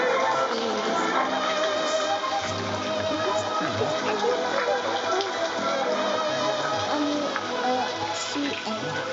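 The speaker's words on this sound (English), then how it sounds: "Raining." Steady rain pattering on surfaces outdoors, a continuous soft hiss with scattered drops throughout.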